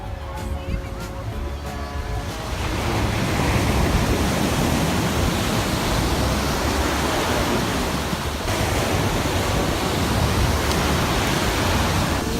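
Strong ocean waves at Laguna Beach, California, make a loud, continuous roar of surf that swells after a few seconds and fills the scene. Voices sound briefly at the start.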